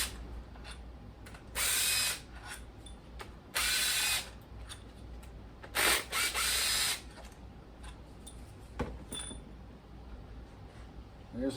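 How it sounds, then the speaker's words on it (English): Ratchet clicking in several bursts as bolts on a 2002 5.3 V8 engine on an engine stand are loosened by hand, with quiet pauses between each run of rapid pawl clicks, close and fairly loud. "That's why I use a ratchet usually first before I go right to the impact."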